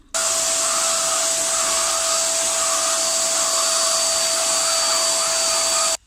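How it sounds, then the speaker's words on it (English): A vacuum cleaner runs steadily while pulling dust from a window air conditioner's filter, a loud continuous whine with a sustained tone, starting and stopping abruptly with no talk. "So I'll take a vacuum cleaner and I will be removing the dust in front of you."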